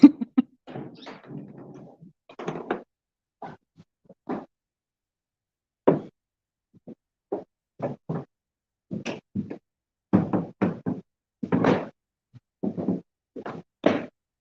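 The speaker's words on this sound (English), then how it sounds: "the floors are a little creaky, so you'll hear some creaks from our footsteps" Footsteps cross a creaky wooden floor indoors, sounding as sparse, irregular thumps and knocks spread over several seconds with silent gaps between them.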